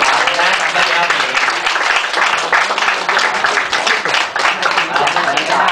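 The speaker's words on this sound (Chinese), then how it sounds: "江金石老师，好，大家掌声邀" An audience applauds at a class farewell banquet for teachers, with dense, steady clapping filling the whole stretch at close range.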